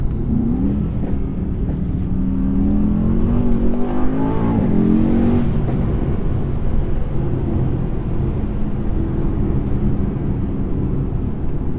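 A 2019 Mercedes E63S engine pulls hard through a launch, its steady loud roar rising in pitch over a few seconds before settling into a continuous drone.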